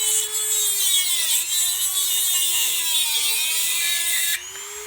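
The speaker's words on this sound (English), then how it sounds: "I'm going to try and cut this side staple" A Dremel 200 series rotary tool with a cutting attachment slices through a staple, giving a steady high-pitched whine with a shrill grinding edge that wavers slightly in pitch, loud and close, then drops off near the end.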